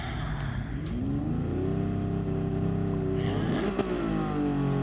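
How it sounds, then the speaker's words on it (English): A car engine in a PS4 racing game revs with a steady, mid-pitched drone that rises and falls, including one sharper rev-up burst, playing alone without talk. "Hear my car revving?"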